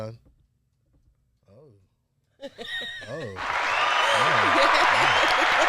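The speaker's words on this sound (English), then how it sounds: "Round of applause." Applause from a small group on a rap talk show breaks out after speech and short chuckles, rising into a sustained, fairly loud clapping wash while a voice continues talking over it.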